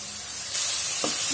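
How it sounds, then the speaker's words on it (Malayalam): Spice powders sauté in oil in a pan for a soya chunk kurma, a loud steady sizzle that suddenly surges brighter partway through, with a couple of faint stirring scrapes. "നന്നായിട്ട് ഇതെല്ലാം കൂടിയിട്ട് വഴറ്റി കൊടുക്കുക."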